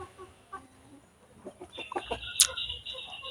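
Several short hen clucks from a village chicken, scattered bursts with a sharper call near the end, fairly close over quiet farmyard background.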